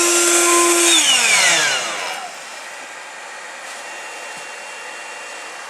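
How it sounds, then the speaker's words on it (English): An inverter running in an off-grid tiny house, heard as a loud, close whine that slides downward and thins out over the first two seconds. A steady, quieter electrical hum then continues to the end. "And that's just the inverter running,"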